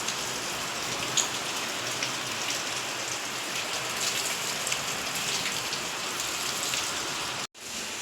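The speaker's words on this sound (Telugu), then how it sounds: "ఘోరంగా పడుతుంది వర్షం అయితే." Heavy rain pours steadily outside a balcony, a dense even hiss of falling water that stays constant until a brief dropout near the end.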